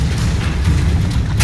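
Continuous booming spell blasts and fire-spell effects from the Hogwarts Legacy video game, a loud, dense low rumble with bursts of crackling energy throughout.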